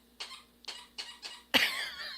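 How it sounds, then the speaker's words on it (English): A dog's squeaky toy gives four short squeaks spaced roughly evenly, then a longer, louder squeal that trails off, close and clear with no talking. "my dog found a squeaky toy"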